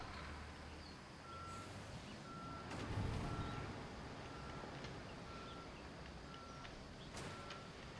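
Concrete mixer truck in Construction Simulator 2023 backing up, its reversing alarm sounding a steady series of evenly spaced beeps over a low engine rumble, with no talking.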